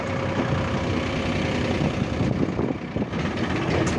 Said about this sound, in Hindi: ट्रैक्टर का यह बड़ा ही सुहाना सफ़र है